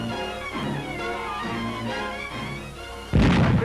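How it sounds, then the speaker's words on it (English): Wartime artillery fire from Dutch batteries shelling the bridges at Moerdijk, heard as a steady low rumble of distant guns under a film soundtrack, ending in a loud, close blast of a shot or explosion. "Fierce artillery fire, Dutch batteries are still trying to destroy the bridges."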